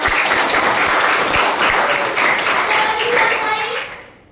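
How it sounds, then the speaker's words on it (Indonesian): A crowd of listeners in a classroom gives a sustained burst of applause that fills the clip loudly, holding steady before tapering off at the end. "Kita beri applause untuk"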